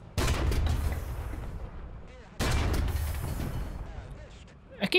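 Tank cannon fire in the video game War Thunder, two loud booming shots a couple of seconds apart, each followed by a long rumbling decay, with no voices.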